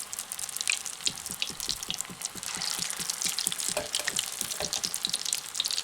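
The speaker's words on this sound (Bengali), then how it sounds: "4-5টি ভেজে নিচ্ছি।" Bread pakora balls frying in hot oil, a steady bubbling sizzle with soft crackles and repeated low ticking pops running throughout, fairly quiet and close, with no voices.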